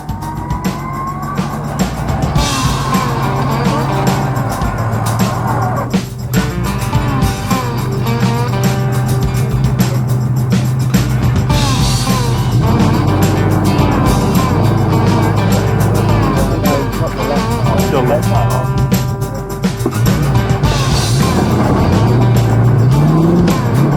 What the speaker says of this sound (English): This shows that trucks were driving up the hill.